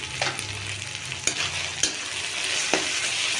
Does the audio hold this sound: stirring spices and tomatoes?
yes